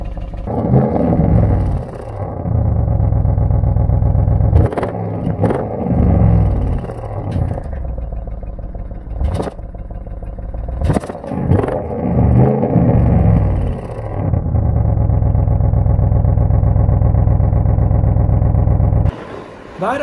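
A 2020 Audi RS 6 Avant with a 600 HP (441 kW) engine blares from its exhaust, loud and close, with repeated revs that swell and fall and short sharp blips between longer pulls.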